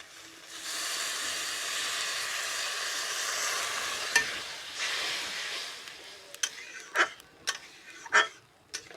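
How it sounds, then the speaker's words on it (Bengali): Water poured onto potatoes sizzling in a pan for a pangas fish curry gives a sustained loud hiss that fades, followed by a few sharp clinks and stirring knocks near the end. "আলুটা আমার ভালোভাবে কষানো হয়ে গেছে, আলুর মধ্যে জল দিয়ে দিলাম"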